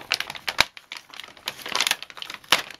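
Stuck parts for a Parrot AR Drone 2.0 are torn out of a plastic shipping bag, giving close, crisp crinkling and ripping crackles in irregular bursts.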